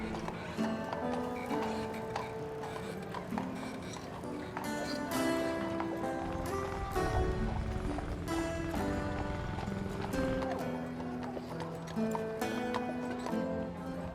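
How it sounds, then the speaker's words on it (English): A horse-drawn taxi on car-free Mackinac Island, hooves clip-clopping in a steady rhythm on the street, mixed with a busy layer of music and ambient noise. "Alison and Emory enjoyed a classic Mackinac Island horse-drawn taxi ride."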